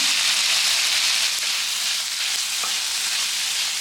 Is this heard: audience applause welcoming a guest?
no